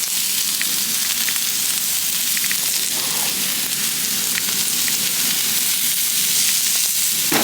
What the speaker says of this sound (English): that's when we're gonna add our peppers and our onions